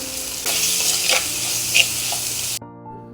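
Tomatoes with turmeric powder fry for a fish curry in a loud, close sizzle with bursts of stirring and spatula scrapes, then the sizzle cuts off abruptly near the end.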